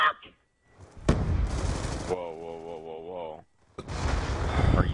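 Rapid gunfire from a Call of Duty multiplayer match, sharp bursts of shots that stop and start, with a player's voice talking between the volleys.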